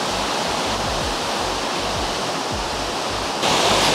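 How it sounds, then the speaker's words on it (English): River water pours steadily over a weir near Storrs Bridge, Sheffield, a loud, continuous rushing roar heard close by with no voices, swelling slightly louder near the end. "I'm walking towards Storrs Bridge, coming across up towards a weir. I can see the weir now."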